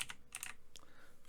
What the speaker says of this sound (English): So we just right click and just start typing in